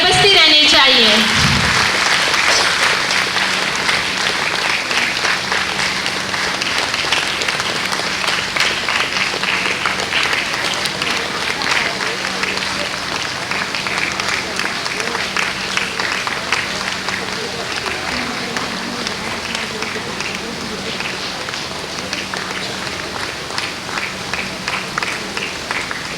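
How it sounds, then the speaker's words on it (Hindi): Sustained audience applause at a ceremony for Birsa Munda's 151st birth anniversary and Janjatiya Gaurav Divas in Andaman, a dense crowd clapping loudly and continuously, easing only slightly as it goes on. "तालियां बजती रहनी चाहिए।"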